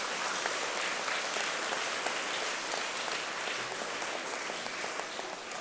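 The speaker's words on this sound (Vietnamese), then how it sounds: "hãy cho một tràng vỗ tay cam kết an toàn giao thông" Audience at a Buddhist talk on traffic safety breaks into a round of applause, many hands clapping steadily and fairly softly, sounding somewhat distant.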